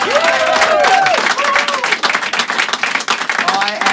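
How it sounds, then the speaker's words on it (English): A studio audience breaks into applause and cheering, with a few bright whoops over the clapping, which is strongest at the start and thins out over four seconds. "Big round of applause for Adam."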